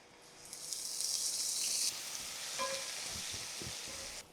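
Onion paste hits hot oil with whole spices such as star anise and shahjeera in a pan, giving a soft, steady sizzle with a brief brighter hiss early on and a few faint stirring clicks.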